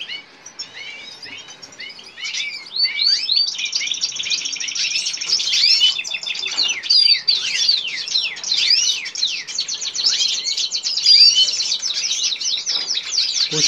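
Finches or canaries kept for hybrid breeding chirp and trill densely at close range, with rapid, overlapping high tweets that build after the first couple of seconds and continue nonstop without voices.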